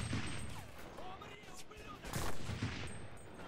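Sniper rifle gunfire in the World War II shooter Enlisted, set in the Moscow battle: a couple of sharp cracks with rolling echo over distant battlefield rumble and scattered crashes.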